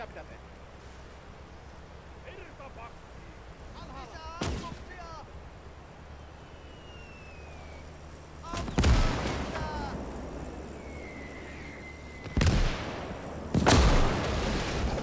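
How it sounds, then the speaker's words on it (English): Several heavy booming blasts go off at intervals from a mortar in the strategy game Gates of Hell, with whistling projectiles in between and quiet ambience underneath. "Big old mortar."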